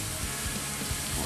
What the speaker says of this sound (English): you can see I got a nice sizzle going there, so that's telling me that this is nice and hot like I want it